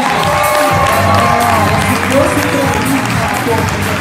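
A live audience claps and cheers loudly and continuously, with a dense wash of applause and scattered shouts filling the room at close range.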